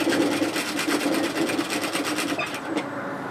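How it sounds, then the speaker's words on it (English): A sewing machine stitches the centre back seam of a relaxed pullover hoodie, its steady, loud rapid whirring running continuously close up with no talk, easing near the end. "and I'm stitching down the centre back."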